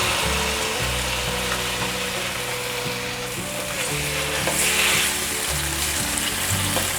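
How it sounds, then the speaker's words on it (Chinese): Tofu sizzles and fries steadily in olive oil in a wok, starting from cold oil, producing a continuous close crackle throughout. "锅内放入少许橄榄油，冷油下豆腐"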